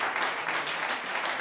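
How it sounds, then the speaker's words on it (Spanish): An audience applauds for a band at a live concert at the Ateneu, a dense, steady wash of many hands clapping together at an even level. "Y damos paso, un fuerte aplauso"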